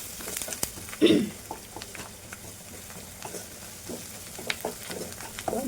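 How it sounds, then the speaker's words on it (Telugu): Ginger garlic paste with turmeric and salt frying in a pan, a soft steady sizzle with occasional stirring scrapes and a brief louder clatter, fairly quiet and close. "1 స్పూను అల్లం వెల్లుల్లి పేస్ట్, పసుపు, కొద్దిగా సాల్ట్ వేసేసుకొని ఫ్రై చేసేసుకోవాలండి"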